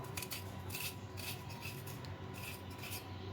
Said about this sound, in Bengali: মাঝখানে শাঁসটা এইভাবে চামচ দিয়ে আমি পুরোটা বের করে নিচ্ছি।